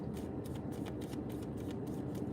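Tarot cards shuffled by hand in a steady stream of soft, quick riffles, close but faint over a constant low background hum, with no talking.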